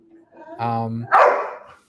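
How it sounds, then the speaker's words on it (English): Dogs in a home bark during an online meeting, a short tonal yelp followed by a louder bark, close and heard alone. "I'm just gonna switch rooms real quick so my dogs don't bark"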